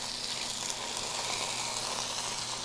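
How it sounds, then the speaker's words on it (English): Pork tenderloin sears in avocado oil in a hot skillet, giving off a steady, close, bright sizzle with fine crackling spatter and no voices. "now we're gonna sear this pork tenderloin 2 minutes on each side"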